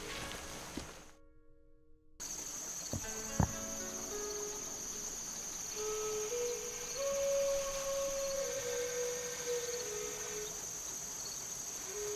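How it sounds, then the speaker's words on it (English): Night ambience from the adventure game The Night of the Rabbit: a frog's call over continuous chirping insects, with a few short tonal notes and brief pops, steady and moderately faint, with no talk. "Is that a frog I hear?"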